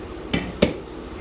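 A spoon stirring food in a cooking pot knocks against the metal twice in quick succession, two close, fairly loud clanks over a quiet background.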